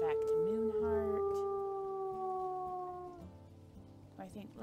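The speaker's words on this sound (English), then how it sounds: "We're howling back to Moonheart." Wolves howling in WolfQuest, a long sustained howl with layered pitches that slowly fall, fading after a few seconds into quieter sounds.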